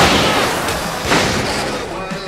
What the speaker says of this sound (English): I can set off more of the fireworks from here